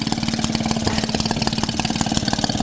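A Maytag Model 72D washing machine engine idles nearby with a fast, even putt-putt pulse, loud and steady, with no voices.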